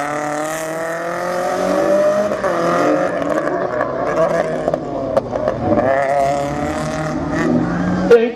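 BMW race car at the Lessay slalom in 2023, its engine droning and revving continuously through the slalom course, fairly close and loud, with a commentator's voice faintly under it.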